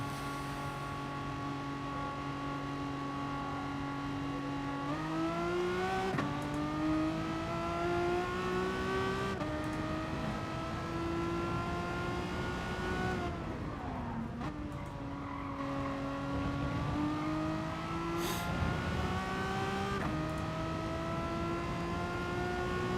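A Renault race car's engine revs and shifts through gears around Brands Hatch in GT Sport, a steady loud drone with rising pitch sweeps and tire squeal, no talking.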